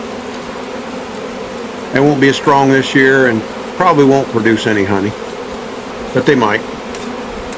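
Honeybees from a swarm being caught buzz loudly close by in several passing bursts of wavering pitch over a quieter background hum, with a brief spoken remark.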